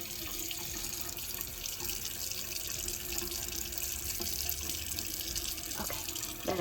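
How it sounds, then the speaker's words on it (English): Water running steadily from a sink tap while a face is rinsed, a soft continuous hiss and splash with a few small sloshes near the end, quiet and close with no talking. "I'm gonna rinse off a little bit so that I can get a little bit of this loosened up"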